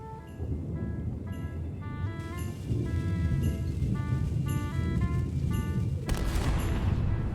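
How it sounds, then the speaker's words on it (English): Repeated booming cannon shots and a bursty barrage echo over layered game music and effects in Return to Monkey Island, with a louder blast near the end. "Ready for cannon firing."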